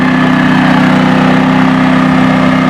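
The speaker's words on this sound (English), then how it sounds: "the generator's still running" A Firman dual fuel inverter generator runs steadily at close range, a constant engine drone with a strong low hum and no change in pitch or level.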